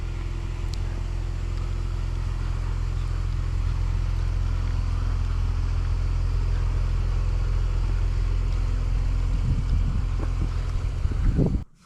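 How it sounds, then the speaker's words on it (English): Steady, loud engine and road drone from inside a 2006 BMW X3 3.0i with a 3.0-litre straight-six while driving, a continuous low rumble with wind noise that holds unchanged for nearly the whole stretch before cutting off abruptly at the end. "Today we are driving a 2006 BMW X3 30i on our channel."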